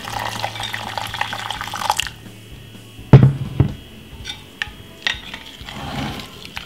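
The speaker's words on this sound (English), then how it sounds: "Give it a stir." A spoon stirs a green tea, honey, ginger and lime drink in a glass of hot water, giving sharp clinks against the glass followed by softer scattered taps and faint liquid swirling.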